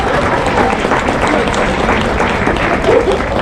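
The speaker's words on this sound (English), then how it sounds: "Big round of applause." Crowd at an awards gala applauding athletes, a steady, busy roar of clapping throughout, fairly loud and filling the room without pause.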